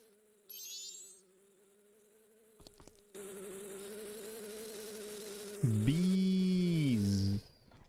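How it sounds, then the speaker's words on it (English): Bees buzz in The Legend of Zelda: Majora's Mask, a steady droning hum that swells louder and bends in pitch near the end, with no talking over it. "Bees."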